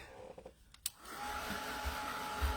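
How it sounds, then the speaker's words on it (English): A heat dryer blows across an art journal page, starting after a few faint taps and then running as a steady, loud whooshing hum. "So I'm going to take my dryer here."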